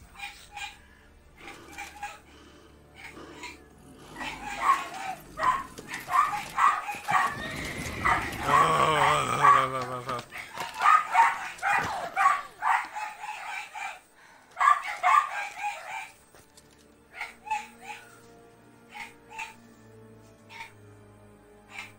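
A dog barks in The Witcher 3 in repeated sharp bursts, loud and near, with a rough, growling stretch midway, while chicken clucks and crowing sound among the barks.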